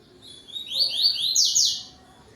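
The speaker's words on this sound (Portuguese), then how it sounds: "Ele dá um cante tui-tui bonito, de vez em quando ele dá uma campainha" A double-collared seedeater sings a rapid series of bright, high, sweeping notes close by, rising in loudness and then tapering off over faint background hiss.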